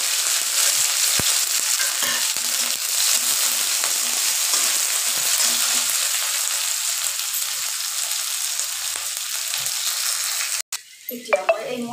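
Onion and green chillies sizzle and fry steadily in a hot pan with mustard seeds, a continuous close crackle that ends with a few clatters of stirring.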